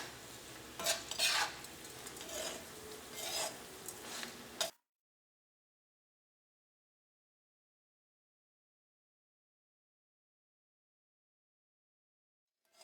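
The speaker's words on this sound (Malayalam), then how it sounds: "ഇതെല്ലാം കൂടിയിട്ട് നന്നായിട്ടൊന്ന് മിക്സ് ചെയ്യാം." Bread upma with salt being stirred in a pan: steady scraping and light sizzling for about five seconds, close and fairly loud, then stopping abruptly into silence.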